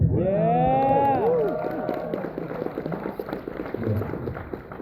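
A convention panel audience cheers and whoops with rising voices, then breaks into a quick patter of clapping that carries on more quietly.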